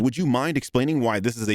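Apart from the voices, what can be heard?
No distinct noise like a dog, phone or traffic.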